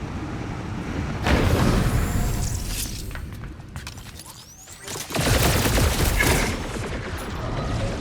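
Sniper gunfire in the Guardians of the Galaxy video game: loud bursts of shots and impacts, with a heavy volley near the start and another around the fifth second, over continuous combat noise.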